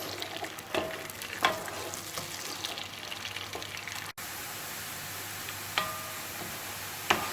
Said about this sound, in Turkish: soğanlarımız iyice pişene kadar arada karıştırarak soğanlarımızı pişiriyoruz.